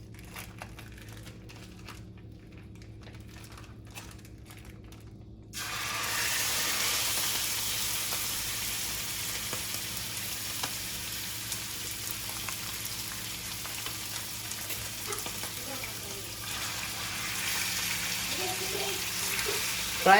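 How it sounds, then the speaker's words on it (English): Ground beef in olive oil in a pan breaks into a loud, steady sizzle about five seconds in, after a quieter start, and keeps crackling close up for the rest of the clip. "I add a little bit of olive oil in the pan, as you see, and then I like to go ahead, put my meat in there"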